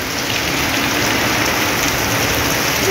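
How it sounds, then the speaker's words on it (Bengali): Heavy rain pours steadily on a rural road in foggy evening weather, a dense, loud, unbroken hiss that fills the whole stretch, with a faint engine rumble underneath. "বাবা কি একটা বৃষ্টি আসছে"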